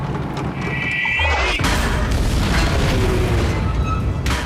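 In a scene from the WWII film Fury, a German tank shell strikes a tank with a heavy, loud boom, followed by sustained low rumbling and debris noise.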